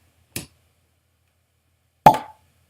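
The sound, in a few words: cork popped from whisky bottle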